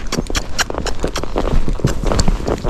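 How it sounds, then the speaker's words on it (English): A Tennessee Walking Horse takes a canter step from the walk, its hoofbeats thudding in quick, uneven clusters close by, with dull ground impacts and rustling throughout. "So just a canter step from the walk, and that was good."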